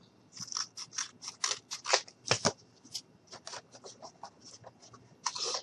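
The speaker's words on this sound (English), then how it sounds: "Just going to cut that little bit." Scissors snip through craft material for a small model truck, with a quick run of crisp, close cuts in uneven bursts and short pauses between them.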